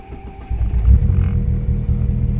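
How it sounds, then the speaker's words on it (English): A Mitsubishi 4G63 engine cranks on a hot start at operating temperature, then catches with a loud, low, rumbling idle close by. "So here we'll do a hot start."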